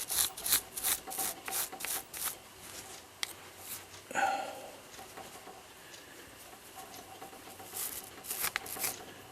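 Brush scrubbing excess grease off a regulator clock movement, a series of close, quick bristly strokes in irregular bursts with a brief clatter near the middle and short pauses between passes.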